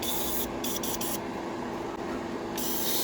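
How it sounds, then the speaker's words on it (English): Spectre Flame Red spray paint hisses from an aerosol can onto the interior of a diecast model car: a steady, close, broadband hiss with a few brief stutters and gaps. "we're going to spray the interior with the Spectre Flame Red"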